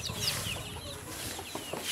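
Chickens clucking on a small farm in the Philippines, with soft, scattered clucks at a moderate distance over a steady outdoor background.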